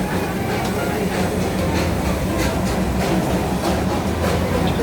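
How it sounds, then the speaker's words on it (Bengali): A Darjeeling toy train hauled by a steam engine rolls into a station, a loud, continuous rumble of wheels and carriages with rhythmic clattering bursts, close by and without talk. "আমাদের ট্রেন দিয়ে দিয়েছে, ট্রেন ঢুকছে দেখুন,"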